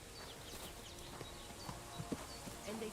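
Horse hooves clip-clopping on the ground in the medieval video game Kingdom Come Deliverance II, a quiet, irregular patter of steps under a low background bed.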